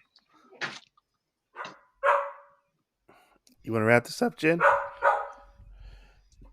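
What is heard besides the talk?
dogs barking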